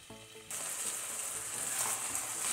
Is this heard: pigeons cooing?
no